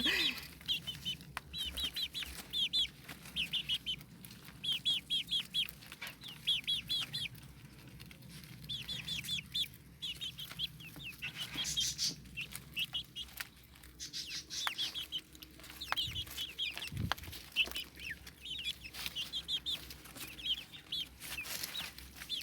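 Chicks cluck and chirp continuously up close, with a busy, hungry flock chattering and some wing flapping, no talking.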